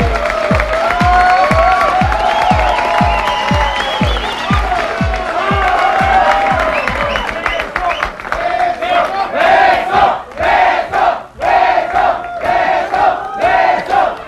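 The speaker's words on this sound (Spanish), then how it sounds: "Vamos a darle un fuerte aplauso." Studio audience of a talk show greets an arriving guest with loud cheering, shouting and applause over a rhythmic thumping music beat, with voices rising and falling in bursts toward the end.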